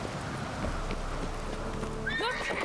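A horse in The Witcher 3 video game, heard as hooves clip-clopping under steady ambient game noise, followed by a neigh near the end.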